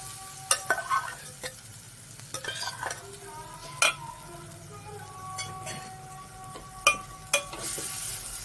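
Onion, coriander, curry leaves and green chilies with salt frying in a pan, with a quiet steady sizzle under sharp scattered clinks and scrapes of a spoon stirring against the pan.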